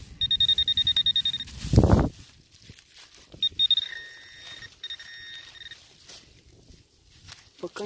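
A metal detector pinpointer beeps in rapid, steady pulses while digging for coins on Sakhalin, then a brief scrape of soil interrupts before a second shorter run of beeps; a person talks at moments.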